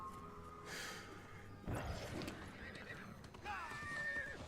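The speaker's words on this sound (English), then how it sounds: "Remember to get my horse this time." A horse mount in the video game New World neighs and whinnies, with clip-clop hooves, a crash and a thud amid game sounds, mid-level and close.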